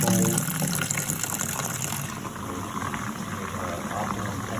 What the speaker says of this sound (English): I'm going to go ahead and add my filtered water here.